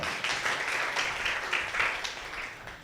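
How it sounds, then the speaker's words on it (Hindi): A church congregation at a Sunday service claps together in a sustained round of applause lasting a few seconds, fairly loud and close, with no one speaking over it. "ताली बजाओ इस बात के ऊपर।"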